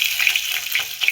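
Mustard seeds, cumin and chillies crackle and sizzle in hot oil for a kadhi tempering, a brief, close burst of bright popping and hissing.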